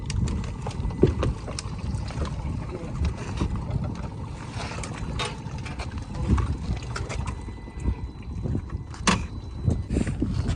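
Ferry carrying motorbikes from Diu toward Mogaldham, with a steady low rumble of engine and water running throughout, wind buffeting the microphone and scattered knocks and clunks, fairly loud and close.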